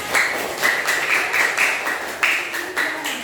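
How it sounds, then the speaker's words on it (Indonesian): Classroom students clapping for group 4 after their presentation, a steady patter of many hands with rhythmic bursts, moderately loud and close, with no talk over it. "Beri tepuk tangan untuk kelompok 4."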